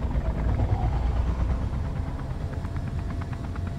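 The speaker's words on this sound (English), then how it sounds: "now I can just hold W and fly around like a normal helicopter, right?" A helicopter flies in the game Space Engineers, its steady low engine rumble and rotor drone filling the whole stretch at a constant moderate level, with no talk.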